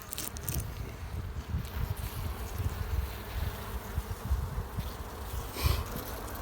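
A low, steady insect drone fills the clip, many bees buzzing close together in a hive in a forest, a continuous hum, with occasional soft shuffling and handling noises as frames are pulled.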